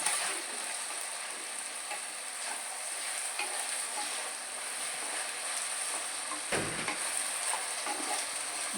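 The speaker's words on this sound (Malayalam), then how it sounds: "എന്നിട്ട് നല്ലപോലെ ഇളക്കി കൊടുക്കാം." Cut brinjal is stirred in a hot pan for a brinjal gravy, giving a steady soft sizzle with faint scraping and stirring textures throughout and no voices.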